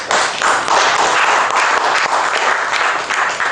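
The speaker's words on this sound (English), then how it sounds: "Give him a round of applause." Audience at a lecture on NLP and flirting bursts into loud, steady applause, dense overlapping claps sustained throughout without a break.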